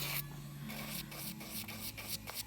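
An electric nail file grinds against a fingernail in close, steady rasping strokes, with the whirring buzz briefly easing and returning as the bit lifts off and comes back; no one speaks.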